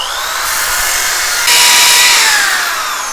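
A power sander works steadily over wood trim for a herringbone tile installation above a whirlpool bath, loud and close, its whine rising in pitch and intensity about halfway through, with no talking.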